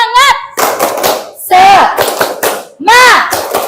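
Indonesian school class performing a rhythmic spirit clap, sharp bursts of clapping in a beat alternating with children's shouted chant, loud and close.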